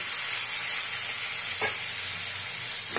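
Boiled brinjal (eggplant) frying in a pan, a steady close hiss of sizzling oil with two brief stirring scrapes, no voices.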